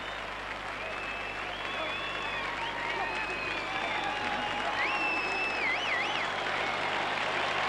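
Rugby league crowd at a Wigan versus Hull KR playoff match roaring and applauding after a try, a dense steady wash of cheering with whistles rising over it.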